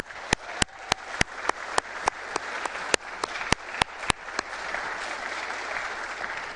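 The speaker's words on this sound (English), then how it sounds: "Please join me in a round of applause for these leaders." Congregation at a Temple Beth El annual meeting applauds its board leaders, a steady wash of clapping from many hands in a hall with sharp individual claps standing out, tapering slightly toward the end.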